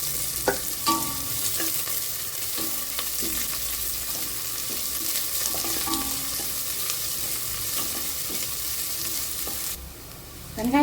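Cardamom, cloves, cinnamon, fennel and onion frying in a pan for veg biryani, a loud continuous oily sizzle with intermittent scraping stirs, then a brief dip and a clatter near the end.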